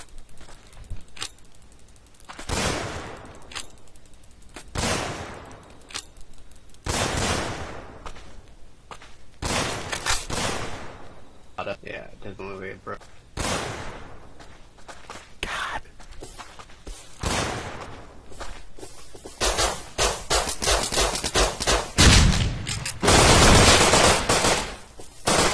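Raid in the video game Rust, with rapid bursts of automatic gunfire and heavy explosive booms piling up over the stretch, growing denser and louder toward the end, with no clear talk on top.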